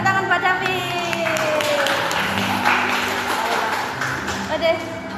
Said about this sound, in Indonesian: Tepuk tangan buat David.